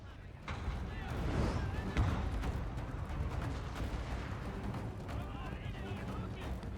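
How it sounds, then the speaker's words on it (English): Artillery barrage firing in Total War: Fall of the Samurai, heard as a dense, continuous rumble of booming shots and crackling impacts that holds steady throughout, with voices talking over it. "one more barrage from the artillery will be enough to get rid of this"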